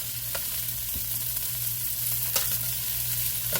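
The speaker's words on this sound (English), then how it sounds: "So what I'll do now is start stirring some of the onion in." Onion is stirred into shredded cabbage frying in a pan, giving a steady close sizzle with occasional scraping spoon strokes and a low hum underneath, no talking.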